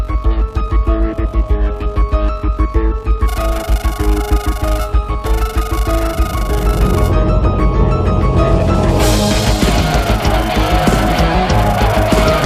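Engine drone and road sounds from the Commodore 64 driving game Chevy Chase, a loud, continuous buzzy synthesized tone with shifting pitch layers, growing noisier and denser toward the end, with no talk.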